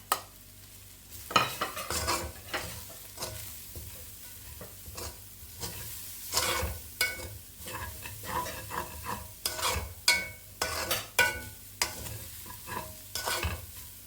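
Chopped carrot and cabbage are stirred in a pan for chicken corn soup, with repeated scraping strokes of a spoon against the pan over a soft sizzle, rhythmic and close, without speech.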